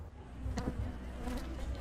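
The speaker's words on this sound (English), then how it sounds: "the bees can be seen at the zoo buzzing around pollinating flowers" A steady buzz of bees pollinating flowers at a zoo hums throughout, with a faint low background rumble and no talking.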